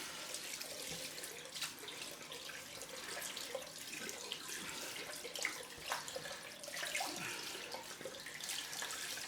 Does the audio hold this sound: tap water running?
yes